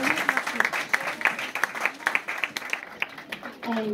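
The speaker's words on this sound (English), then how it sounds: "they deserve a huge round of applause for the evening they've put together" Fundraiser audience at a cancer support charity evening applauding the Carraig Donn staff, sharp hand claps in a lively steady patter, with a voice briefly over it near the end.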